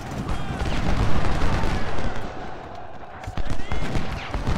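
Dense battlefield gunfire from the Civil War strategy game Ultimate General: Civil War, with continuous massed musket volleys and distant rumbling booms, heavy and steady throughout, with a brief dip before resuming.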